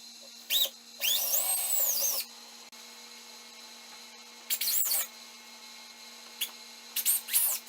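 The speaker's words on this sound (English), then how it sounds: "go ahead and drill them" Power drill boring holes for a snowmobile skid plate on an 850 Summit, heard in several short high-pitched whining bursts separated by quiet pauses, fairly close and loud.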